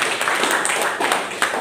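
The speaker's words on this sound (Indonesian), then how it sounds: "Tepuk tangan buat Tuhan Yesus." A church congregation claps together during a worship service, producing a dense, steady patter of hands that continues evenly from start to finish.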